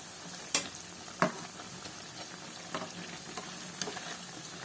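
Kara vadai fritters sizzling in hot oil, a soft continuous crackle with a few sharp clinks and splashes as the pieces are turned over, close and fairly quiet.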